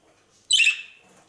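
One sharp, bright squawk-chirp from one of four newly bought young female parakeets rings out close by, trailing off quickly into near silence.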